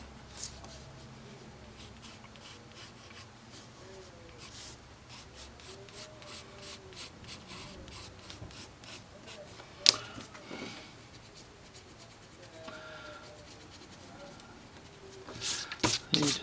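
Soft, continuous rubbing and scratching of an eraser or pencil on paper while cleaning up sketch lines on a rabbit drawing, quiet and close, with a voice talking quietly over it and a few sharper taps near the end.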